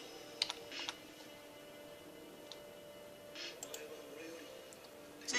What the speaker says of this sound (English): Let's type in melanoma.